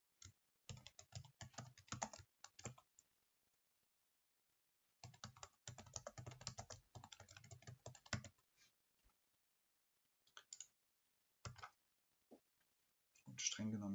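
Bursts of rapid clicking typing on a computer keyboard, close and crisp, in several runs separated by pauses, with a final short flurry.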